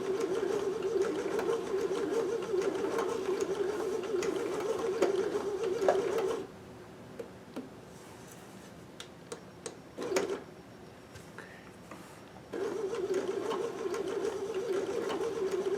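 A sewing machine with a Singer circular stitch attachment stitches the smallest circle in a steady mechanical whir, stopping partway for a stretch of quiet clicks and handling sounds, then resuming and stitching on.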